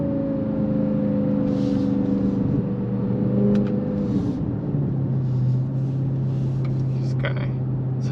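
A 2021 Dodge Charger Hellcat's engine drones and rises while driving, a steady low rumble that shifts pitch as it accelerates, heard from inside the car with faint background noise.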